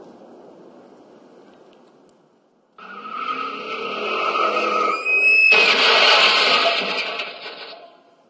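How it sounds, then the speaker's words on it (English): A car brakes hard and skids, tires squealing briefly, then slams into a massive head-on collision with a loud, sustained crash and scraping that fades out; quiet background comes first. "He is only able to get his foot to the brake pedal before a massive collision occurs."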